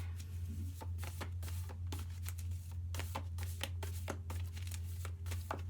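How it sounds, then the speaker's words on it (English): A deck of cards is shuffled in a quick series of soft riffling snaps and flutters over a steady low electrical hum, fairly quiet and close, with no talking. "I'll shuffle it one more time."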